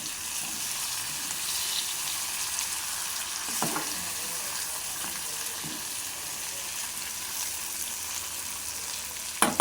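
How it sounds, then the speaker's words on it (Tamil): Potatoes fry in hot oil left over from frying fish, giving a steady, dense crackling sizzle throughout with a few faint knocks of a utensil near the end. "இதை பொரித்து எடுத்துகிட்டு இந்த எண்ணெயிலேயே உருளைக்கிழங்கையும் போட்டு"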